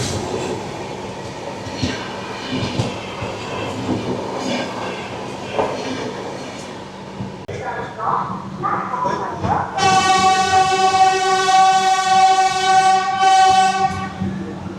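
An Indian passenger train pulls into Jajpur Keonjhar Road station, rumbling and clattering before a loud, sustained multi-tone horn blasts near the end, with people talking faintly in the background.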